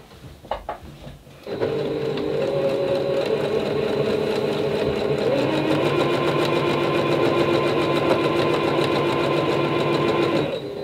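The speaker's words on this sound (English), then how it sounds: "So we're going to stitch down this side." After a few clicks, a sewing machine starts quilting along a fabric edge, a loud, close, rapid mechanical whirr and clatter that runs steadily for about nine seconds before easing off.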